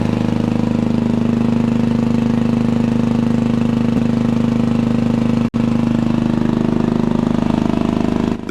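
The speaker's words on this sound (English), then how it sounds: "Equipped with a 500 horsepower V12 V-2-34 diesel engine" A 500-horsepower V12 V-2-34 diesel tank engine idling, a loud steady low throbbing drone with a strong hum, briefly cut once midway, running alone without talk.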